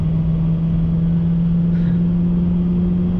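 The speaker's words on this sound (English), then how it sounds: "pulling onto the highway, we'll do a little acceleration test and let you hear that V8 in action" A 1994-2001 second-generation Dodge Ram 1500 pickup with a V8 engine accelerating onto a highway, heard as a steady, loud low engine drone with road rumble, continuous and without speech.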